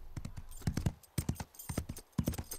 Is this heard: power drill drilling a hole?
no